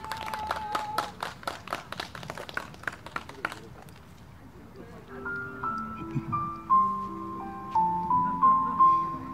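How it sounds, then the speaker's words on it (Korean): Clapping from a healing-concert audience at Seo Jae-pil Memorial Park: a burst of fairly sparse hand claps over the first few seconds fades out as soft melodic instrumental music takes over. "박수 한번 보내주세요."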